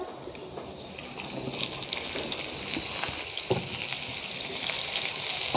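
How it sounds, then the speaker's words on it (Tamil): Shallots, curry leaves and dried chillies fry in oil over a medium flame, a steady close sizzle with crackling pops that grows slightly louder toward the end, no voices. "மீடியம் ஃப்ளேமில் வச்சு இது வணக்குங்க. வெங்காயம் வந்து நல்லா ப்ரௌனாக வரணும்."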